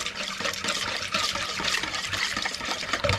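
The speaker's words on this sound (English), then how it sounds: "So, I'm gonna whisk this." Dairy ingredients for cheddar cheese bread whisked in a bowl make a steady, dense, close-up swishing and sloshing that continues without a break.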